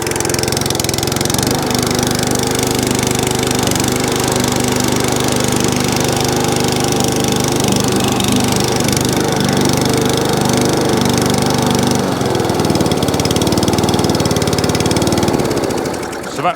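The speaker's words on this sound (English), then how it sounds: "So that runs, drives, cuts, idles, does everything it should do." Atco Balmoral cylinder lawn mower engine runs loud and steady at close range, a continuous droning rumble that shifts slightly in tone before cutting off at the end.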